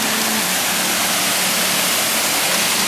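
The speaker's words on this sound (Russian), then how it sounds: "Очередной водопад." A steady, loud rush of the Phasuam waterfall on the Bolaven Plateau, Laos, roars without pause, a broad hiss that fills the whole stretch, heard close up.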